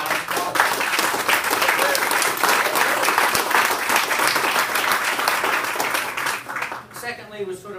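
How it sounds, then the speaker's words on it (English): Sustained, dense applause from a seated audience at an opening presentation honouring project funders, loud and steady for several seconds before tapering off at the end. "Just a quick round of applause."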